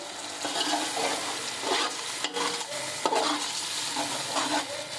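Rice and beef frying in a pan with yogurt for Hyderabadi beef pulao, a steady close sizzle with scraping stirs throughout, no talking.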